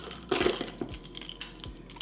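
A metal straw stirring a drink in a glass, producing soft scattered clinks and swirls, quiet and close, with no voices.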